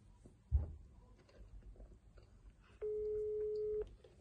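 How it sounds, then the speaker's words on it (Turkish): An unanswered outgoing phone call sounds through a handset as a single steady ringback tone lasting about a second, faint and close, after a soft bump and quiet room noise. "Arkadaşlar şimdi Sıla da açmadı telefonu"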